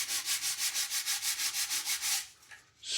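Close, steady back-and-forth strokes of sandpaper on the wooden fuselage decking of a model aircraft, a Flair D7 build, make rhythmic, soft, hissing rubs at an even pace that stop near the end.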